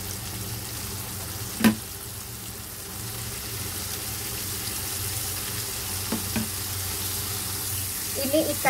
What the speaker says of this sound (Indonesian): lalu kita goreng untuk kedua kalinya